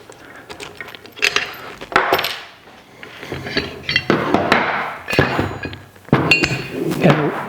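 Metal clinks, knocks and thunks as the hitch ball is taken off a YATM adjustable tri-ball trailer hitch, with repeated sharp close impacts and scraping in bursts and no talking.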